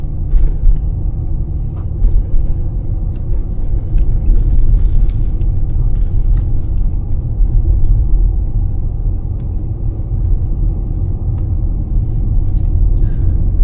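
An Infiniti G35x AWD drives on snowy streets at night, its low, steady road rumble and engine hum continuous and close throughout, with faint scattered clicks on top.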